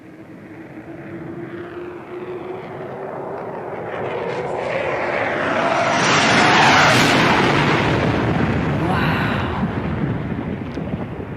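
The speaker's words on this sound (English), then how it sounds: "So that's from an F-16 jet, an F-16 fighter jet." An F-16 fighter jet roars past, its engine rumble swelling from a distant drone to a loud broadband peak near the middle and then fading, with a rising tone as it approaches and no talking.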